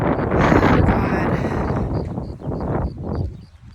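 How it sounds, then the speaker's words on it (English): Wind gusting outdoors during a walk, heavy buffeting noise on the microphone that swells loud early and eases off toward the end. "It's very windy outside."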